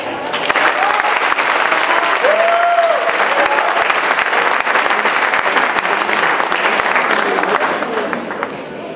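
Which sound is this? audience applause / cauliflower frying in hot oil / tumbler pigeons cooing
audience applause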